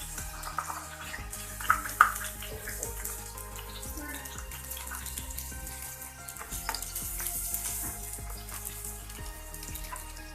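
Fish pan-frying in hot oil with a steady crackling sizzle throughout, broken by occasional louder pops and faint clinks.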